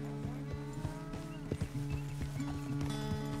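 A horse in Red Dead Redemption 2 clip-clops along with repeated hoof falls under a steady droning game soundscape, with a low snort and faint whinny-like tones.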